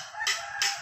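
Red junglefowl rooster calling outdoors, two loud, raspy bursts close by, a crowing rather than soft clucking, with no talk.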